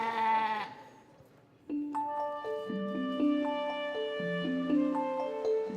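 A goat in the Pennine countryside near Hawes bleats several times, a short wavering call first, then a longer series of tremulous, rising and falling bleats, fairly close and clear with no talk.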